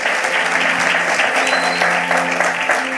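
Audience applause at an evangelical church sermon, a steady dense clapping that fills the room continuously without pause or talk.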